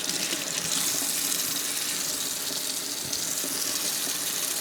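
Tap water runs steadily into a sink as mushrooms are rinsed for a homemade chicken and vegetable soup, a continuous close splashing hiss with no talk.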